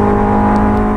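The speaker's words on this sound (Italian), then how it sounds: "motore spettacolare, S2000, eccola qua." Honda S2000 engine idling or revving steadily with a strong, even harmonic drone, loud and close for a full second with no voices.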